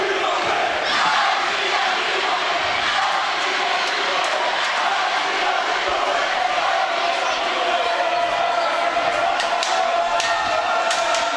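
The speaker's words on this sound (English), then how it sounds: "Large crowd on hand tonight." Large crowd of fans fills a high school varsity basketball gym at a homecoming game, a steady loud roar of voices and shouting that runs without a break, with some talk mixed into the din.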